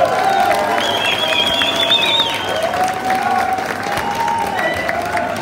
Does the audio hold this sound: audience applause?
yes